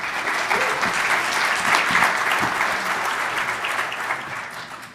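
A conference audience claps steadily to welcome a speaker to the stage, a dense, even round of applause across the room that holds at full strength and then slowly tapers.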